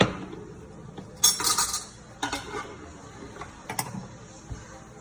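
A spoon clinks and scrapes against dishes in a kitchen while keto jerk steak is prepared, giving a few short bright metallic taps and rattles close by.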